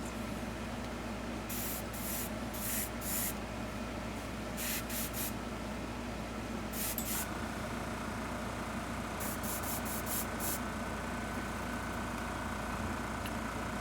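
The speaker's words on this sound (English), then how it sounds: "I'm just going to give it like a nice overspray" Airbrush spraying skin-tone paint onto a model figure in a steady hiss, with short bursts of stronger spray starting and stopping over a continuous low background hum.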